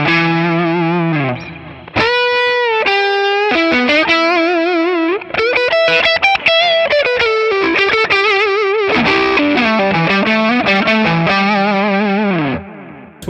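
Electric guitar played through a Tonex overdrive pedal with delay, bright lead lines of sustained bent notes and quick runs, loud and close, with repeats trailing after phrases.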